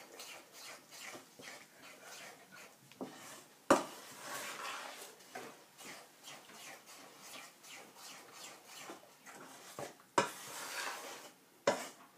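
Flour batter stirred in a pot for a Thai pandan lod chong dessert, quiet repeated scraping and swishing strokes with a few sharper knocks against the pot, close and low in level.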